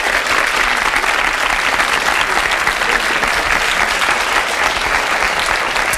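An audience applauds a young girl performer at a talent show, with steady, dense clapping that holds at an even loud level from start to finish and no voices over it.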